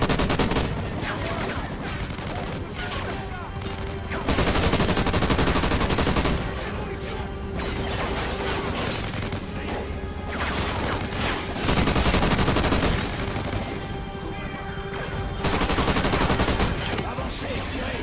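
Rapid gunfire bursts and sustained automatic fire from the first-person shooter Call of Duty: Ghosts, loud and dense with booming impacts, running through the whole stretch.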